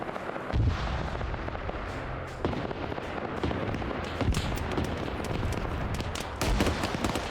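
Mortar rounds firing and landing in the video game Arma 3 give repeated booming thuds and bursts of gunfire at irregular intervals, some near and loud, others more distant, with no talk.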